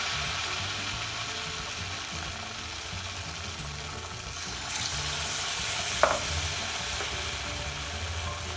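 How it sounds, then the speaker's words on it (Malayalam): Banana fritters coated in wheat-flour batter sizzling steadily in hot oil over a medium-high flame, a constant close crackle with a brief clink of a utensil near the end. "ഇനി നമുക്ക് ബനാന ബാറ്ററിൽ മുക്കിയതിന് ശേഷം ഈ ഓയിലിട്ടിട്ട് ഫ്രൈ ചെയ്തെടുക്കാം"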